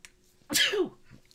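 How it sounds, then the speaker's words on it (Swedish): A person sneezes once, close and loud, a sharp burst with a falling tail, preceded and followed by quiet breathing. "Och jag har en nys på gång."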